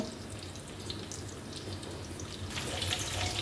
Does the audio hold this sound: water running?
yes